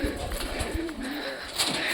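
A pet pigeon coos from a cage nearby, its soft throaty calls continuing steadily with faint voices in the background.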